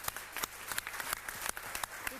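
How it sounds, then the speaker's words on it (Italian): A TV studio audience applauding a guest, quick dense clapping that lasts about two seconds and sits close, mixed with faint voices. "faccio un applauso a Salvatore."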